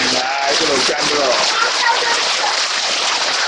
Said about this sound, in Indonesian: Ya hujan, ini hujan petang nih ya.